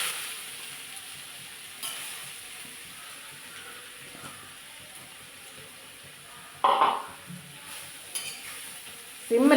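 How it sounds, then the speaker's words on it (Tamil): Yellow pumpkin pieces sizzle steadily in hot ghee while a spoon stirs and scrapes the pan now and then, a soft continuous frying hiss with occasional louder clinks toward the end. "இனி அதே நெய்யிலையே பச்சை வாசனை போகிறது வரைக்கும் இந்த பூசணிக்காயை போட்டு நல்லா"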